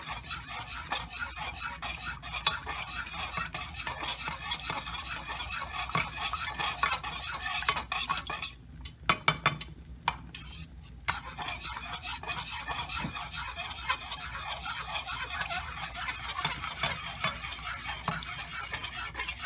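A spoon stirs melted candle wax to dissolve a color chip, giving a continuous scraping, clinking rhythm against the container with a soft sizzle-like hiss, close and steady throughout, briefly broken by a few sharper knocks midway.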